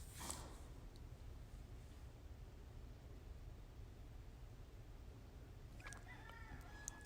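After several seconds of quiet hiss and low rumble, a rooster on a farm starts crowing near the end, fairly distant.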